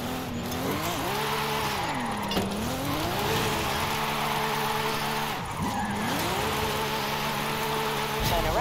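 A car drifts through a drift zone in the racing video game Forza Horizon 5, a sustained engine note that rises and falls in long sweeping waves with a bed of tire noise, and no voices over it.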